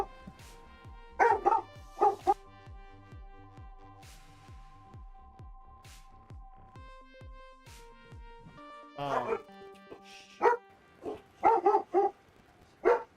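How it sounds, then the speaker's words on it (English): A dog barks in a series of sharp, close barks and yips over a steady electronic hum and tones from a Minecraft GregTech modded game session, with loud bursts clustered at the start and end. "Dog alarm."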